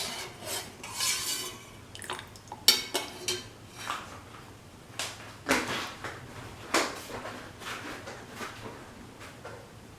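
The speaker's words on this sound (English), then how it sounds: "Mix until all the sugar dissolves." Small metallic clinks and scrapes of a spoon stirring sugar into spiced masala tea in a cup, irregular taps and swirls at close range, with no voices.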